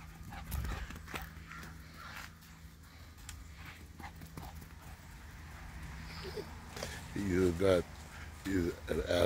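A dog runs and pants up close, quick paws thudding and breath huffing rhythmically, while people talk over it throughout.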